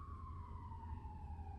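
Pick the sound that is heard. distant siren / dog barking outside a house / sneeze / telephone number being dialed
distant siren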